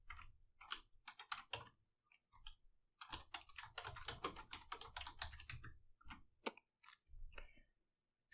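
Keys clatter in quick, irregular bursts on a computer keyboard as Cisco IOS commands are typed, with short pauses between runs of close, crisp taps.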